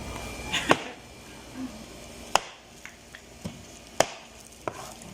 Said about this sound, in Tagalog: Litson ang tinatadtad, yung taga-tadtad.